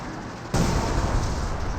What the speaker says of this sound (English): We do got ML-20 deployed on our field. Looks like his first barrage on top of the mortar.